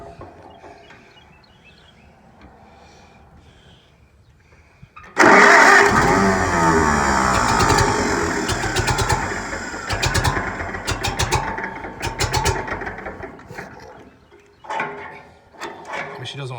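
A Farmall M tractor engine, choked, cranks and catches after several quiet seconds, then runs loud and rough with uneven bursts and some voices in the background.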